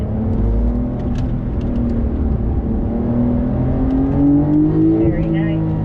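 A 2021 Porsche 911 with a PDK gearbox accelerating on a race track, heard from inside as a loud engine note that climbs steadily in pitch under throttle, with a driver talking over it.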